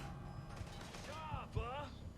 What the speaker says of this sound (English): let's just close the elevator door